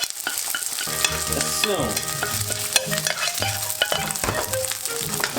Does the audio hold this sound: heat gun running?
no